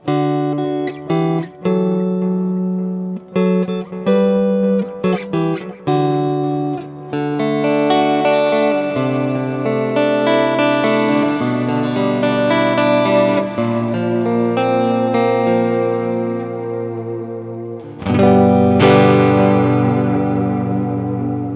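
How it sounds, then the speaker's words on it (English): A bright, shimmering electric guitar tone plays gently plucked notes and ringing chords, with a soft chorus-like sparkle and a louder strum near the end. "It's another clean tone, but it's a clean with a little bit of added sparkle to it."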